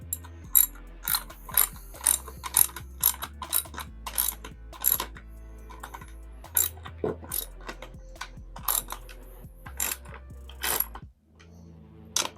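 A ratchet tightens a nut down a threaded rod on a foundation build for a giant tarantula diorama, repeated bursts of fast clicking pawl strokes with brief pauses between, close and clear, no talk.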